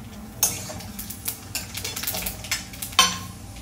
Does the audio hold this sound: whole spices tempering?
yes